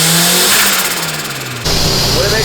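A car engine on a dyno revs hard through a base pull with the boost controller switched off, its rising drone loud and close. The pitch climbs steadily, then the note shifts abruptly to a rough, buzzing tone partway through.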